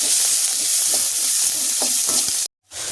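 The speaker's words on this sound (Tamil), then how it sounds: "நம்ம பொடி பொடியாக கட் பண்ணி வச்சிருக்கோம் வெங்காயத்தையும் பச்சை மிளகாயும் சேர்த்துக்கலாம்" Finely chopped onions and green chillies fry in hot oil for an egg poriyal, giving a loud, close, continuous sizzle with light stirring, then a brief break just before the end.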